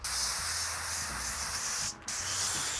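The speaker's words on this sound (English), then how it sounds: "I am going to take some of my duck fat spray," Duck fat cooking spray hisses from an aerosol can onto heavy-duty aluminium foil, a close, steady spray broken by one brief pause before resuming.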